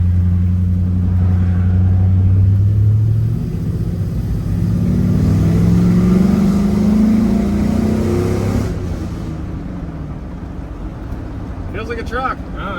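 A cheap old $900 pickup truck drives at about 50 mph, its engine droning steadily and loud from inside the cab, with the pitch rising and falling through the run before the noise eases to a quieter rumble near the end.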